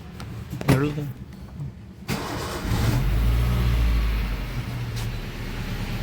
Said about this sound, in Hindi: स्टार्ट कर ले गाड़ी।